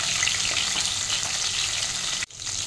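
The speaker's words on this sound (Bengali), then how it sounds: "এগুলো একটু কড়া করে ভালো করে ভেজে নিতে হবে।" Fish heads fry hard in hot oil in a home kitchen pan, a loud steady sizzle with no talk that drops away abruptly near the end, then resumes briefly.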